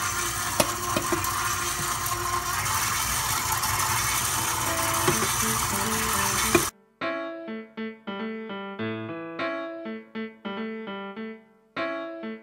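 Electric stand mixer stirring cornmeal almond cake batter, a steady dense whir running alone for several seconds before cutting off abruptly, followed by a quieter passage of tonal notes.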